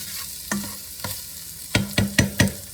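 Ground beef, 90% lean, stirred in a pan for ziti, heard as a series of distinct scraping strokes over a light sizzle, spaced at first and then coming in a quicker run of four near the end.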